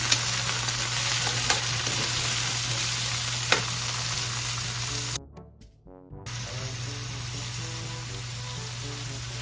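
Cabbage sautéing with onion and tomato in a pan, a steady loud sizzle and crackle throughout that drops out briefly near the end before resuming.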